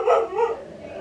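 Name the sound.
dog barking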